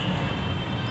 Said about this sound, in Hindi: हमारी मेट्रो आ गई